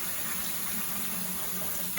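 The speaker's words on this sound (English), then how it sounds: "Rinse that rice." Tap water running steadily while rice is rinsed in a kitchen, a continuous rushing splash at even volume throughout.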